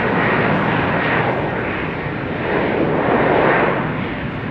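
An airplane rumbles at Amsterdam Schiphol Airport near a runway crossing, a loud, broad, continuous engine roar that swells gently and holds steady throughout without voices.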